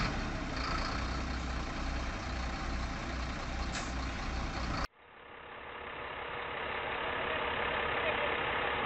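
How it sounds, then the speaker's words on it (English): A Volvo tractor truck hauling two trailers of large logs on a dirt road just off a ferry, its heavy diesel engine droning steadily and loudly, with an abrupt cut midway into a more muffled continuing rumble. "The Volvo tractor and 2 trailers with large logs had just moved from the ferry and were moving strongly straight on the dirt road."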